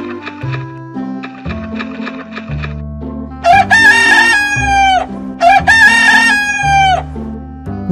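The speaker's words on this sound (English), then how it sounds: "Rooster." A farm rooster crows twice, each a loud, close cock-a-doodle-doo with a rising then sliding call, over a light plucky music bed that runs before and between the crows.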